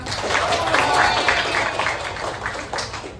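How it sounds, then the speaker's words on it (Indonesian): A classroom of students claps for a classmate named Ilsa, a short, close and fairly loud burst of scattered clapping with some voices mixed in. "Coba tepuk tangan untuk Ilsa."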